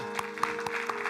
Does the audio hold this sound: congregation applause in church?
yes